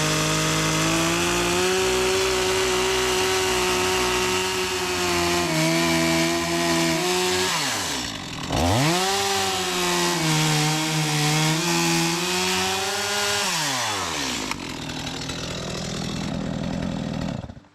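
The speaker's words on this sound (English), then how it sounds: "I'm going to go get my chainsaw and cut that" Chainsaw cutting through a thick wooden perimeter sill beam, a loud sustained engine whine that bogs down and revs back up mid-cut, then drops away near the end.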